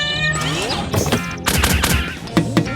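Cartoon kittens meow in high, bending cries, with bursts of crashing, pelting noise in between and more meows near the end.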